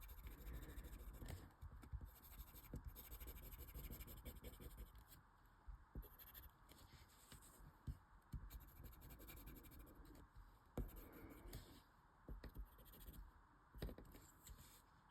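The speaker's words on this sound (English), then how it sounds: "I'm going over with the white pastel pencil there anyway" A white pastel pencil scratches across paper while a Zentangle pattern is shaded. The soft, dry, steady scraping runs close and quiet through the whole stretch, with brief pauses and slightly stronger strokes here and there.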